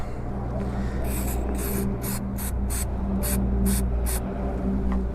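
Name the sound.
chain cleaner sprayed on motorcycle chain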